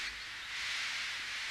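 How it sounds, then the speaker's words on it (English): A steam engine blows off steam in a steady, loud, close hiss that swells slightly and holds throughout. "But Henry still stayed in the tunnel and blew steam at him."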